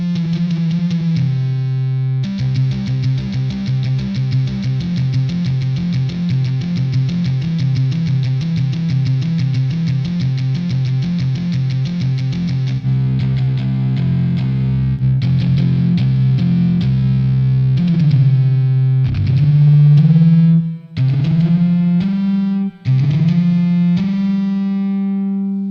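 Electric guitar played through a Cali Modern Crunch amp preset in Cubasis, a loud distorted crunch tone with sustained chords and riffs, then choppy stops and bends toward the end, with no voices.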